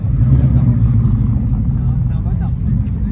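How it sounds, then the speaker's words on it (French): A Ford Mustang with a 5-litre engine rumbles at close range on a town square, its deep, steady idle running continuously for a few seconds with no clear surge in revs. "Très jolie voiture, Ford Mustang, messieurs dames."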